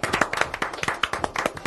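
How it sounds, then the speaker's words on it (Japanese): A children's audience claps at a live stage show as three singing performers come out, a brisk, irregular run of sharp hand claps, somewhat louder and close by. "出てきました、拍手"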